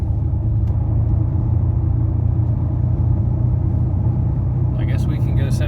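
A Mercedes-AMG car gathering speed on the highway under adaptive cruise control. A steady low road rumble and engine drone fill the cabin throughout, and a brief high-pitched sound enters near the end.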